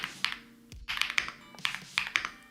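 Keys on a Crush 80 computer keyboard are typed in quick bursts of crisp, close clicks and clacks, with brief pauses between clusters and no talking.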